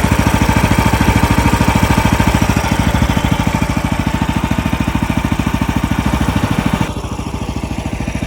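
A Predator 420 gas engine drives a log splitter, running loud and close with a steady, rapid chugging pulse that holds even throughout and drops slightly in level near the end.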